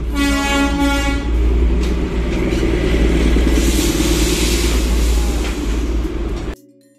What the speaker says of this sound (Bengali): কিন্তু অবশ্যই ট্রেনের টিকিট না থাকায় ট্রেন আমাকে ছেড়েই চলে গেল।